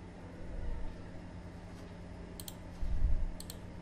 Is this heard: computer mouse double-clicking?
yes